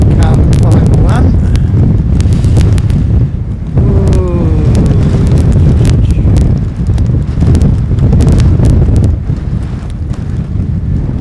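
Strong wind buffets an outdoor microphone at an aircraft-watching mound on Harewood Road, a loud continuous low rumble with gusty swells, briefly easing around four seconds and again near the end.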